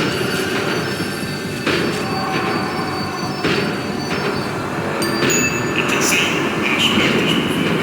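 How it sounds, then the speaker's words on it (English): A tram in the video game Max Payne 3 slows down, its wheels squealing and metal grinding loudly over a heavy rolling rumble, with a few clanks along the way. "The tram was slowing down"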